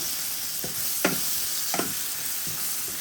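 Leafy greens sizzle steadily in a hot pan with turmeric and garlic, a dal shak fry alongside pink radish, with a few soft stirring scrapes breaking the constant close hiss and no voices.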